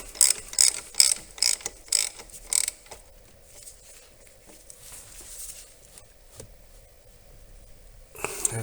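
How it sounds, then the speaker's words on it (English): A ratchet clicks in a quick burst of loud, close strokes as it tightens the head plug on a VW ALH TDI injection pump, then quiet workshop hiss. "I'm just going to tighten it up so that it is, pretty tight."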